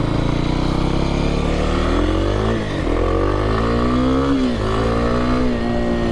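A 2021 Kawasaki KLX 300R dirt bike runs loud and close, its engine droning steadily with a few dips and swells in revs, no voices over it.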